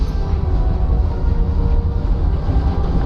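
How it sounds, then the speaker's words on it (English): Train rumble in a video game, a dense, loud, continuous low roar of moving rail cars, steady and close with no breaks. "Look at all the trains!"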